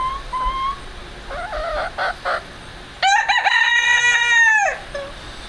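Backyard hens in a coop fenced with a predator apron give soft, scattered clucks, followed by one long, loud rooster-style crow close by.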